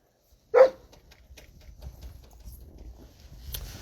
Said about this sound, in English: There's 23 dogs on this truck